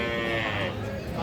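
A Sahiwal cow lows close by in a steady, full moo, with a person's voice faintly mixed in.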